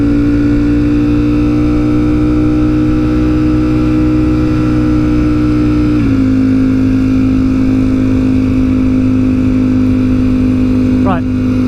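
A Ducati Streetfighter V4S motorcycle cruises with a loud, steady engine drone heard from on board, holding one pitch, then dropping slightly as the rider changes speed, with strong wind noise throughout.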